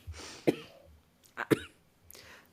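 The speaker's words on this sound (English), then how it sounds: "I'm like still coughing." Three sharp coughs spaced apart, close and fairly loud, each a short harsh burst with quiet breathing between.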